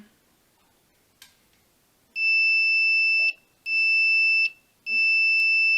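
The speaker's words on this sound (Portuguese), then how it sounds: "Mais 3 funções nesse multímetro são bip de continuidade" Three steady, high-pitched electronic beeps from the continuity test of a Pro'sKit MT-2017N analog multimeter, each lasting about a second with short gaps between, loud and close, after a faint click.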